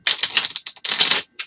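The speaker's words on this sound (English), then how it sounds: "I can actually shuffle a mini deck" A mini tarot card deck on good cardstock being shuffled by hand, with a run of quick, crisp riffling bursts up close, a brief pause, then one last short flick.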